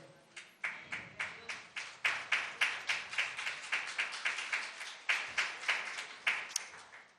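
A church congregation claps during an in-person service, a steady series of distinct, evenly spaced claps that stays fairly quiet and a little distant, with no talking over it.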